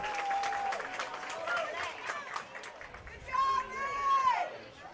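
A crowd at a 2017 high school football game roars and cheers after a Panthers first down, a loud, sustained swell of voices and applause with shrill whistle-like cries rising near the end.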